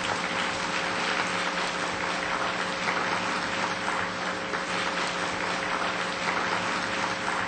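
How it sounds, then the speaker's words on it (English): An audience applauds a speaker, an author and businesswoman, at a book launch video conference, a dense, steady wash of many hands clapping throughout with a faint hum underneath. "Let's give her a big round of applause."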